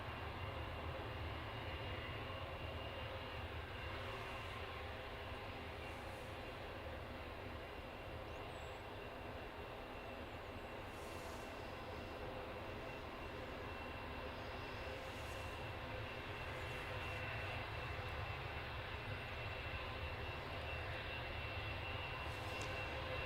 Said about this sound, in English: going to Marrakesh, and it's a 737-800, registration GRUKA, and it's an 11-year-old aircraft.